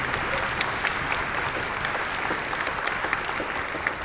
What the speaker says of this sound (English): Can I just have a round of applause?